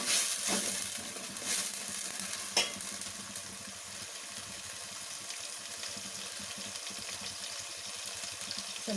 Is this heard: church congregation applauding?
no